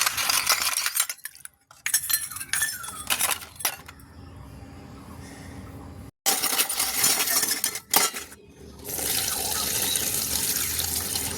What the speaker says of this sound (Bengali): ঠাকুরের বাসনগুলো মাজবো যেহেতু ঠাকুরকে পুজো দেবো